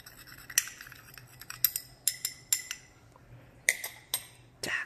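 A spoon stirring baking soda into water in a glass during a science class, giving a run of sharp, bright clinks and scrapes against the glass at an uneven rhythm, close and fairly loud with no talking.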